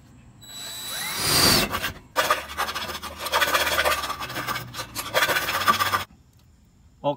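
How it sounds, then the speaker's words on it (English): A round file rasps inside a freshly drilled half-inch hole in an RV water heater housing, in repeated scraping strokes separated by short pauses, close and fairly loud. "All cleaned up with this round shaped file."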